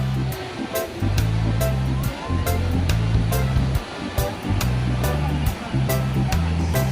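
Resort waterfall in Majayjay, Laguna, pouring down as a loud, continuous close rush of water, overlaid by rhythmic low thumping and bright periodic taps that sound like music playing nearby.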